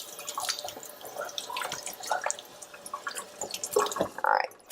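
Kitchen tap runs while hands are washed, water splashing and dripping unevenly into a sink at close range, moderately quiet.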